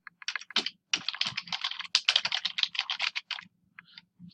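Keys clatter in quick, uneven bursts as someone types on a computer keyboard, entering a name into a form; close and clear with brief pauses between clusters of keystrokes, no talking.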